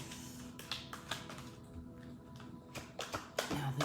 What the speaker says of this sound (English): I'm going to shuffle out first the card for the other person